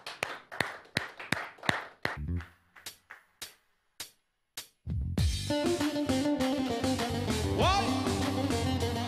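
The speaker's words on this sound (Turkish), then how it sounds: "alkışlarınız kimin için gelsin? Sevgili Onur Bozatlı abim için" Scattered hand claps from a studio audience at a Turkish TV music program, about a dozen sharp claps with gaps between them, before loud music takes over.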